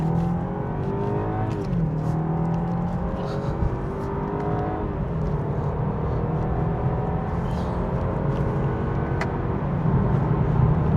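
A 2024 BMW 320i M Sport accelerating on the motorway, its engine note rising steadily through gear changes under continuous road and wind roar, heard from inside the cabin.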